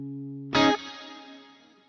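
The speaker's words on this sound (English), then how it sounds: "Plate reverb again." A single electric guitar chord strummed through a Harley Benton DNAFx GiT Pro with plate reverb, cutting in over a held note. It hits hard, then decays into a smooth, shimmering tail that fades over about a second.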